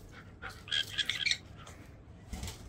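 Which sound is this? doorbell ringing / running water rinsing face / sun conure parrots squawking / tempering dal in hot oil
sun conure parrots squawking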